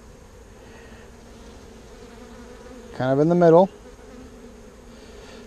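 Honey bees buzzing around an open hive during a brood inspection in Texas, a soft steady hum behind a brief burst of nearby speech.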